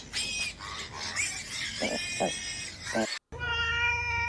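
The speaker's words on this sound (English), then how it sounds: "Cat." A cat meows repeatedly in drawn-out, wavering cries, fairly close, with a brief pause before a final long meow.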